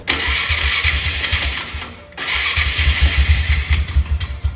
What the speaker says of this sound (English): let's see if this thing runs. Turns over.